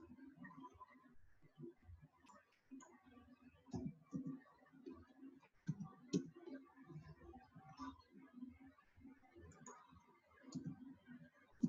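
Computer keyboard keys pressed as shortcut combinations such as Ctrl Shift Enter, giving soft scattered clicks and taps at close range under quiet background noise.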